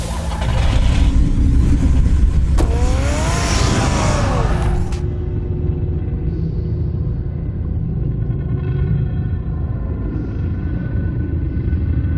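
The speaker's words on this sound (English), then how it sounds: "Get the car ready, Alfred." Car from the Batman Telltale series video game pulling away, a loud low engine rumble rising at the start and then holding steady as a drone for the rest of the clip, with game music and effects over it.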